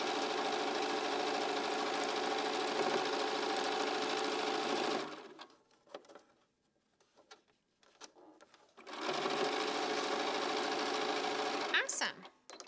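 A sewing machine stitches quilt pieces together in two long, steady, rapid runs, loud and close. A quiet pause with light handling noises separates them.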